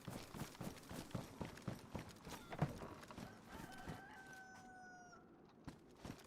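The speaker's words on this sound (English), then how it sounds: "Sorry for stepping on you, Rooster." A rooster in the video game DayZ crows faintly in the background, a drawn-out call partly masked by quick, steady footsteps running close by.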